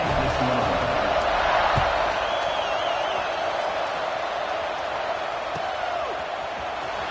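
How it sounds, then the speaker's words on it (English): A stadium crowd in College Football 26 keeps up a broad, steady roar at a distance, with a few faint whistles and shouts rising out of the din. "this crowd is buzzing after that last score"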